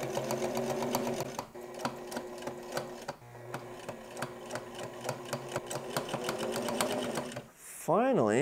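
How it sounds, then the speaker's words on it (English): A sewing machine runs steadily, top stitching around a bomber jacket pocket, with a close even mechanical whir and a brief stop partway, while a voice talks over it. "And then top stitch around the outside."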